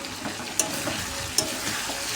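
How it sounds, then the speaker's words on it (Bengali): Chicken kosha cooking in a covered wok, sizzling and bubbling steadily up close, with two brief sharp clicks from the lid or utensil. "একদম চড়বড় করে ফুটছে, কড়াই দিয়ে ঢাকা দিয়ে দিলাম কিছুক্ষণ।"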